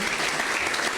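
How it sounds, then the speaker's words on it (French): Loud, thick applause rises from a church congregation praising Jesus, a continuous wash of many hands clapping close by for a brief moment. "Denle un aplauso a Jesús."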